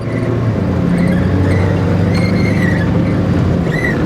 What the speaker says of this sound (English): Sorry about my steering wheel. Yeah, she is squeaky